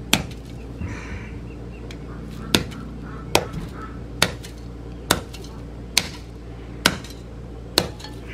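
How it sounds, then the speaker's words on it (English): Hard whacks land on a mystery box, about nine sharp, loud impacts at a roughly even pace, close by, with faint background noise between the blows. "A couple more good whacks, I think we might get it."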